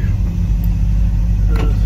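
A 1955 Chevrolet 3100 Big Window pickup rumbles steadily on the road, its engine drone loud and close with a constant low hum and no talk.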